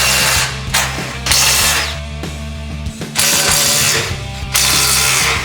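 A power tool, likely a ratchet or impact driver, backing out 17mm screws from a skid plate hook on a 4th-gen Toyota Tacoma, in loud close bursts of whirring with short pauses between them.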